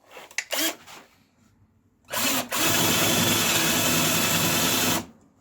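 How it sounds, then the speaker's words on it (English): A few brief clicks and whirs, then a power drill with a larger bit spins up and bores a countersink hole partway into wood for about three seconds before stopping abruptly, close by. "But I don't want to drill it all the way through."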